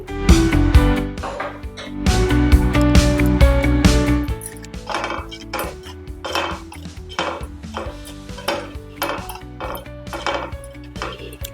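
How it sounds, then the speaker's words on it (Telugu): Coconut pieces fry in hot ghee in a metal pan for Ayyappa prasadam aravana payasam, with loud, repeated clattering and scraping of a utensil against the pan in an uneven rhythm that eases off toward the end. "నెయ్యి వేడైన తర్వాత కొబ్బరి ముక్కలు ఈ విధంగా వేసి వేయించుకోవాలి"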